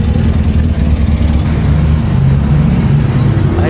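A red Volkswagen Fusca rumbles loudly with a deep, steady engine roar close by, a continuous low throaty growl that barely changes.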